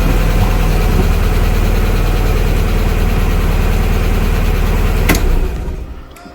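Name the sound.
Fiat Barchetta car engine starting and idling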